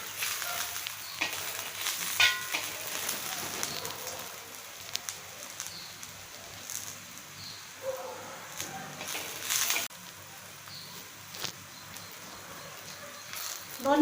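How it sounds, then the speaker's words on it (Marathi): Ginger and garlic fry with browned onion in a pan while making misal, a close, continuous hiss and sizzle with scattered clicks and scrapes of stirring. "ह्याच्यामध्ये आता आपण अद्रक आणि लसूण टाकून घेऊया। परतूया। 2 मिनिटं परतवून घेऊया।"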